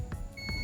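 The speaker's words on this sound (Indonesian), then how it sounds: "ini buzzer, masih menggunakan buzzer" A multimeter's continuity buzzer sounds while a probe goes from ground to the horizontal transistor collector on a dead LG TV board, giving two short beeps followed by a sustained high tone.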